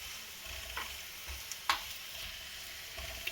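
Garlic frying in oil in a pan while it is stirred until brown gives a steady, quiet sizzle with a few soft scraping stir sounds and a sharper clink partway through. No one speaks.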